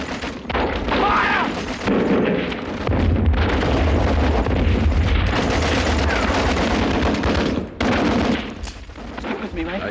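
Rapid, continuous gunfire and booming artillery from soldiers in a WW1 Australian battle scene, loud and dense for the full stretch with shouted voices mixed in.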